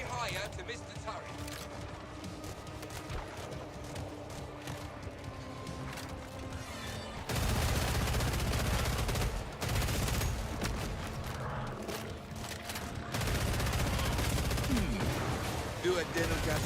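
Turret gunfire in the co-op zombie shooter Killing Floor 3, dense sustained automatic bursts with mechanical clatter that surge louder in the second half, with speech mixed in.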